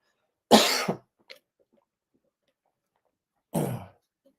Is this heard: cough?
yes